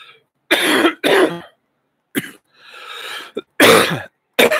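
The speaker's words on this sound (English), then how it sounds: "Sorry for coughing into the mic." A series of sharp, loud coughs right up close, in quick bursts with brief pauses and a raspy throat-clearing breath between them.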